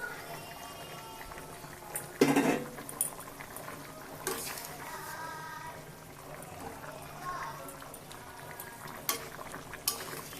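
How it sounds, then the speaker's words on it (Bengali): Pangas fish pieces slide into a simmering curry broth in a pan, with a brief splash and sizzle followed by bubbling and occasional utensil clinks. "ঝোল ফুটে উঠেছে এখন আমি পেঁয়াজ ভাজার সময় মাছগুলো ঢেলে দিলাম"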